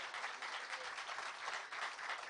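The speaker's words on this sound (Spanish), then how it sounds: "Y el aplauso también, por supuesto, de la gente que está aquí." Audience applause at a chef festival, a dense, even patter of clapping heard faintly and from some distance, sustained for the whole short stretch.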